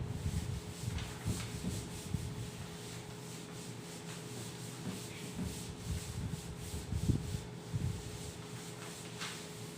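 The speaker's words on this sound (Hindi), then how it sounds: "इधर का पार्ट में रब कर दे रहा हूं।" Writing being rubbed off a classroom board during a Class 10 maths lesson, a steady scratchy scrubbing in repeated strokes, close and fairly quiet, with no talking.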